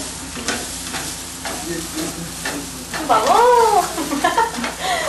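Grated coconut is dry-toasted in a pan and stirred with steady scraping and light crackling, and a brief exclamation cuts in partway through.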